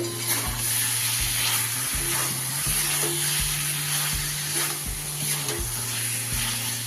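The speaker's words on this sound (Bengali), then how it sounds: "সয়াবিন আর আলু ভালো করে মিশিয়ে নেব" Soybean chunks and potatoes fry in oil with a constant bright sizzle, while a spoon scrapes and stirs in a regular rhythm of repeated strokes, close and without talk.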